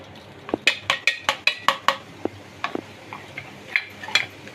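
Boondi batter dripping through a slotted ladle into hot oil for boondi laddoos gives a quick series of sharp sizzling drops, close and moderately loud, then a few more scattered spatters.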